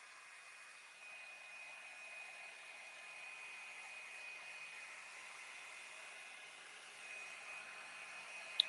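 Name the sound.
hair dryer drying glue on a craft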